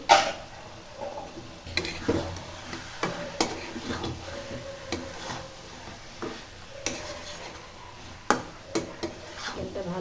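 Chicken being stirred and fried in a pot for biryani, with a low sizzle and repeated light scraping and clinking of a spoon against the pot at an irregular rhythm.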